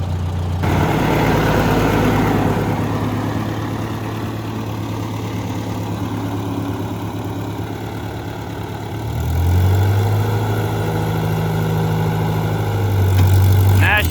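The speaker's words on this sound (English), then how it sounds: "You know what that sound means, don't you? We are out of gas." A farm tractor engine runs steadily close by, then begins to falter and surge unevenly as it runs out of gas, with a voice speaking over it.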